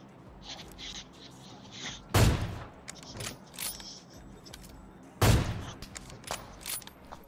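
Sniper rifle shots in the mobile battle royale game PUBG Mobile, two sharp loud cracks a few seconds apart amid lighter mechanical clicks and rattling.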